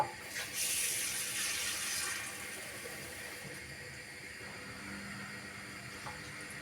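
Cold water pours into a cooking pot for yogurt soup with egg, vegetables and pasta, a steady splashing rush that is strongest at first and then settles into a softer, continuous trickle.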